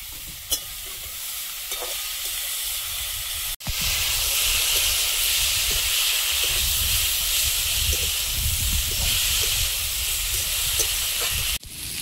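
Water hits a hot cooking pan in a home kitchen, giving a loud, continuous sizzle and hiss with stirring scrapes, broken by a couple of brief dropouts.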